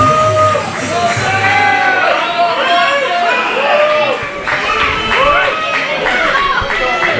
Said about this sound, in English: Crowd is up.